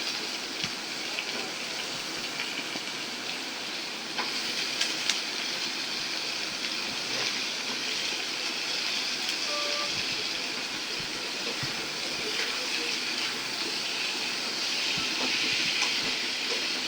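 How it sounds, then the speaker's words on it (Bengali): Dried loitta fish and potatoes fry in a pan, a steady broad sizzle like light rain that holds for the whole stretch, with a few faint scrapes from stirring and no voices. "এখন ভালো করে নাড়াচাড়া করে দিতেছে।"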